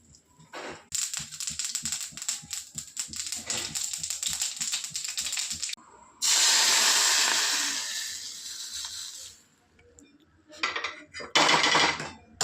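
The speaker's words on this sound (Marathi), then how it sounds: "आता ह्याला जिऱ्याचा तडका द्यायचा." Cumin seeds tempering in hot oil for baingan bharta: crackling, popping spatter that gives way to a loud, bright sizzling hiss, which fades, stops briefly and then flares again, close and without talk.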